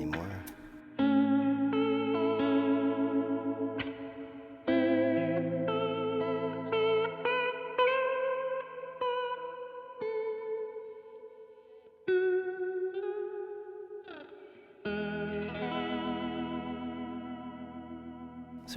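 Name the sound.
Vongon Ultrasheer pedal, reverb into vibrato, cycle mode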